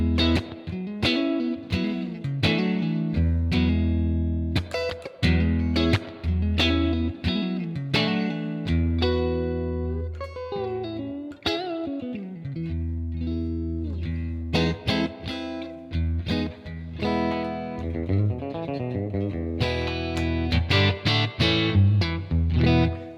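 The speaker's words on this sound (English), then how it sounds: "Remember, we chose a plate reverb this time." Electric guitar played through a Blackstar AMPED 1 power pedal set to a USA 6L6 voicing with plate reverb, a continuous run of chords and single notes with a distorted edge and reverb tail, loud and close.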